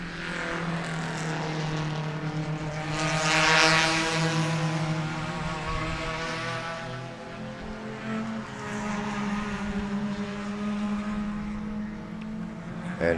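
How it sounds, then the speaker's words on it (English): Race cars lapping Sebring race track during a Turkey Trot Sunday race, a steady droning roar of several engines with harmonic whine rising and swelling as cars pass, continuous and fairly distant throughout. "I did have a couple of folks report that they could hear the race cars"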